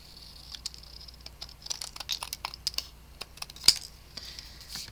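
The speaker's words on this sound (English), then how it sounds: "then I can come with my scissors and cut off all these extras" Scissors snip through leftover card paper scraps while trimming pieces for a handmade card, giving a quick run of crisp, close cuts and small rustles.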